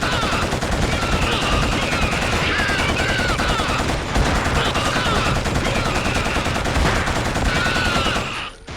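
Gunfire in the Killzone shooter video game rattles in dense, continuous bursts of rapid shots with game effects, loud and unbroken almost to the end.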